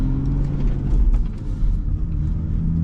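A manual transmission car gently accelerates as the clutch is eased out with light throttle, its engine a steady, close low rumble heard from inside the vehicle.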